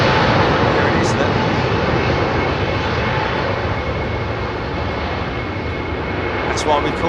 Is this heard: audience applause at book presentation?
no